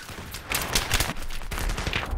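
Battlefield 3 multiplayer gunfire: dense, overlapping bursts of automatic weapons and shots crackling continuously and fairly loud for a couple of seconds, no speech.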